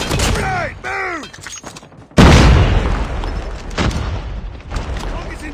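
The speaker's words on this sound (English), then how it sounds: "Grenade." A heavy grenade blast booms loud and close in a Call of Duty Mobile deathmatch on the Aniyah Incursion map, following radio-style voice chatter and leaving a long rumbling tail with scattered distant gunfire.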